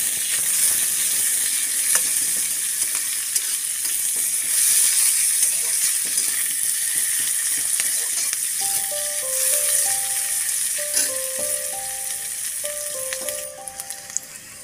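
Onions and chilies fry in a pan with a steady, loud, close hiss of sizzling oil throughout, joined by faint tonal beeps and clinks toward the end.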